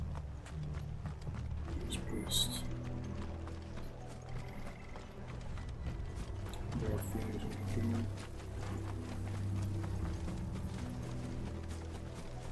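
Horse hooves clip-clop steadily in Final Fantasy XVI, a moderate continuous trotting rhythm with a brief whinny, heard under game music and spoken dialogue.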